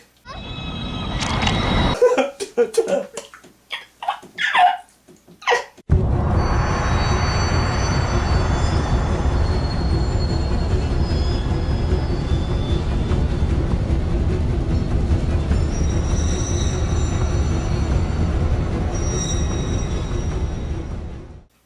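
After a few scattered noises, a loud, steady roaring rumble rolls in and keeps going without a break, like a train bearing down close by.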